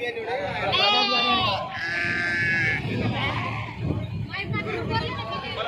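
Sheep at a Saturday livestock market in Pebbair bleat loudly and repeatedly at close range, their long wavering cries overlapping, while people talk nearby amid a background murmur of the crowd.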